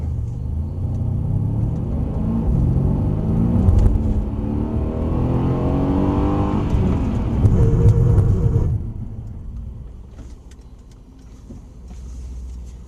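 A car on a driving exercise pulls away and accelerates with a rising engine rumble, then brakes and drops to a lower idle near the end, heard close with no talk.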